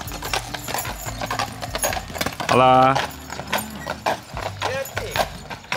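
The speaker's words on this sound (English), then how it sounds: "There's even horses running around." Hooves clip-clop in an uneven rhythm nearby as horses run around a village while people chat, and a horse briefly whinnies partway through.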